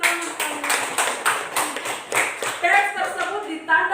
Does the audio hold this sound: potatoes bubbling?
no